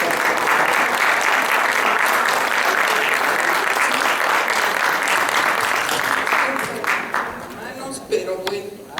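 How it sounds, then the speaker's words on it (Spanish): Sustained audience applause fills a congress hall at a steady, dense level for about seven seconds, then thins into scattered claps and fades, with some voices audible near the end. "Les pido aplauso, por favor"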